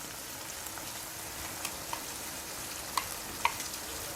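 A soft, steady sizzle of rice frying in a pan on high heat, with a few small pops and clicks of stirring rising above the hiss.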